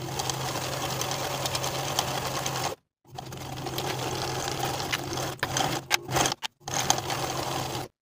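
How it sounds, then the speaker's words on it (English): A sewing machine edge-stitches the long edges of trouser belt carriers in a fast, even, close whir that stops briefly, resumes, then breaks into short stop-start bursts near the end. "then I'm going to edge stitch both of the long edges"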